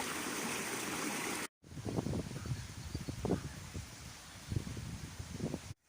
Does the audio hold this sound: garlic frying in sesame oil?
no